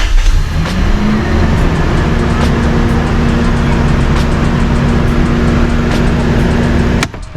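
A Toyota Celsior (Lexus LS400) engine, running again after its ECU capacitors were replaced, roars loudly and close and holds a steady high rev for several seconds, then drops off sharply at the end.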